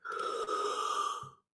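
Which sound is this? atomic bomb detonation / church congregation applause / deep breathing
deep breathing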